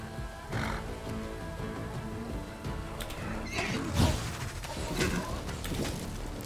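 Horse in the fantasy video game Pathfinder: Wrath of the Righteous, loud neighs and whinnies amid hoof clatter and crashing battle effects, repeating across a busy, continuous combat soundscape.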